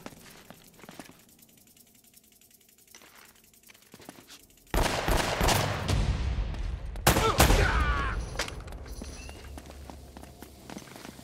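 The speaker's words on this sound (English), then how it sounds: "We seem to be getting shot at. They're shooting at you too" In Uncharted: Drake's Fortune, footsteps shuffle quietly before a loud burst of rapid automatic gunfire erupts and keeps going, with dense overlapping shots and ricochets that surge again partway through.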